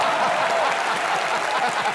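Applause from a studio audience on a comedy show, a dense continuous clatter of many hands clapping at steady moderate loudness for about two seconds, with faint chuckles mixed in.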